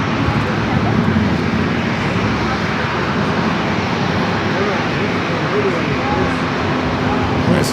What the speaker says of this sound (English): Japan Airlines flights 66 coming up from Tokyo to Narita. 787-9 Dreamliner up next.